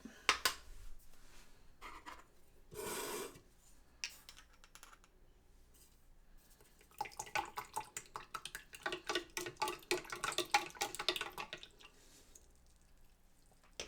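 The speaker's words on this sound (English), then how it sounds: "add the yeast to the water and stir it up" Quiet clinking and scraping of a utensil against a small container as yeast is stirred into water for bread dough, in short irregular bursts with pauses, close and faint.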